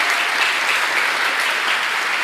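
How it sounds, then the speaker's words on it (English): A scholarship award ceremony audience gives a short burst of even, continuous applause, many hands clapping together at a moderate distance. "Let's have a round of applause for Josiah Vargas and Anna Starliper."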